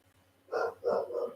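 A guard dog barks at the front door of a house, three rough woofs in quick succession, moderately close and alone over a low background hum.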